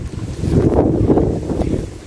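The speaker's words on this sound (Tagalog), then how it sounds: "Tapos may hangin pa." Steady wind buffeting the microphone at a carnival, a low rumbling roar that swells and eases over a couple of seconds, with no voices.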